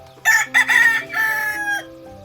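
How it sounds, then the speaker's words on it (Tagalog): A rooster crows loudly in a chicken coop at an old family house, one long drawn-out call that rises and holds before trailing off, with faint fowl sounds around it and no talking. "Ayan na yung mga manok oh."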